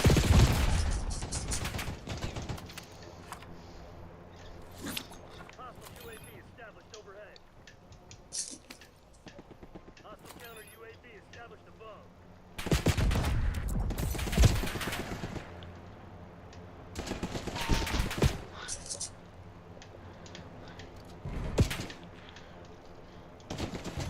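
Video game gunfire comes in several loud bursts of shots and volleys, separated by quieter gaps, and someone talks between and over them.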